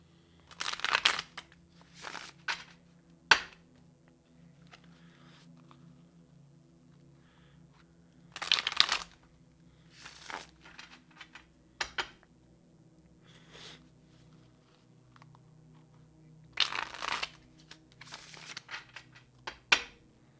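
A Rider Waite tarot deck being shuffled in three separate bursts of crisp riffling and card slaps, with quieter handling, taps and soft breathing between them, close and fairly quiet.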